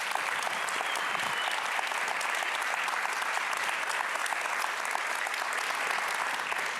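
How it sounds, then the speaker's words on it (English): Steady, dense audience applause for the technical crew at a Roche opening ceremony, many hands clapping evenly for several seconds at a moderate distance with no speech over it. "give a warm hand of applause for the technical team here at Roche"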